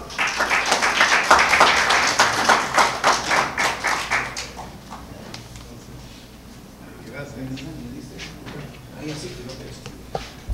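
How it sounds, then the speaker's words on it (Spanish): At an evening fisheries science conference, the audience claps for a speaker in a lively burst of distinct, rhythmic hand claps for over four seconds. It then fades out, and a quiet voice speaks in the room. "Lo recibimos con un fuerte aplauso."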